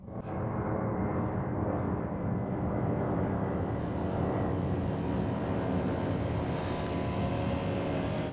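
A V-22 Osprey model aircraft beginning its transition to forward flight gives off a loud, steady, high engine whine that holds without a break throughout.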